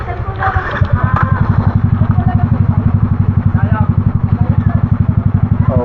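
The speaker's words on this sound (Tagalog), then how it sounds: "Ah, Mart, ahon na yung motor" A motorcycle engine runs in floodwater, its steady throbbing idle loud and close throughout, with people shouting and talking over it.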